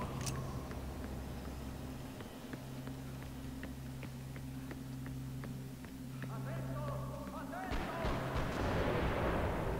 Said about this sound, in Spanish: creo que con todos los tiros que están dando aquí